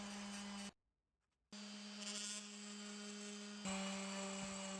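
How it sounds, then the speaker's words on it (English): Orbital sander working through grits to polish a blade, a steady electric whine and buzzing hum nearby that cuts out for about a second, then resumes and rises louder toward the end. "I've found this nice technique to go through the grits on the orbital sander"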